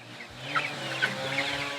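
A rooster clucks in a few short, close calls over a low steady background hum.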